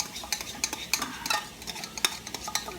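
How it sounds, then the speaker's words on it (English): Cauliflower couscous being stirred in a hot pan with coconut milk and cinnamon, a spoon scraping in quick irregular strokes over a soft sizzle, close and fairly quiet, with no talking. "You want to stir that till all your color gets about the same"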